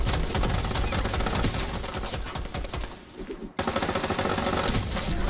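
Machine pistol fired from the hip in the shooter game Strinova, loud and close: dense rapid automatic bursts that break off for a brief moment, then resume at full pace.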